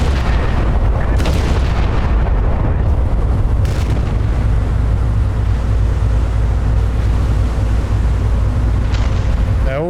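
Naval gun salvos in Battleship Command rumble as deep, continuous booms over a loud, steady low roar of battle and sea, with no voices.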